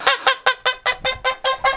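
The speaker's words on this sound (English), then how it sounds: "The geese are mad that we're even here at all." Geese beside a farm nest give a rapid series of about nine loud, harsh honks in a steady rhythm, close by and with no voices over them.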